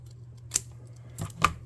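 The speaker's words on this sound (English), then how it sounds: "I'm going to snip some of this off." Scissors snip off bits of material while building a tabletop game track transport: two or three quick, crisp cuts close by in a quiet room, with a low hum underneath and no talking.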